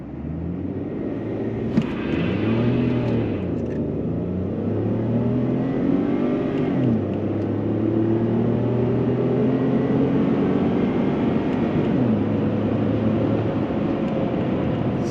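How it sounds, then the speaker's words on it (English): A tuned Ford F-150 EcoBoost pickup accelerates hard, its engine note climbing through several rising sweeps that drop back at each gear change, loud and continuous with road noise underneath. "we're gonna go make another pull with this thing and see how she does. See if it'll build a little boost."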